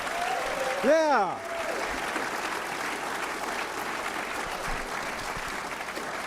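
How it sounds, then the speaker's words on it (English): A large audience of about 450 at an elevator pitch competition gives a round of applause, a sustained crowd clapping that continues after a brief whistle-like sweep and a short spoken word near the start. "How about a round of applause?"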